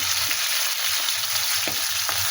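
Vegetables and green chillies frying with cumin in fish oil, a loud close crackling sizzle with a few small pops and stirring scrapes, no talking.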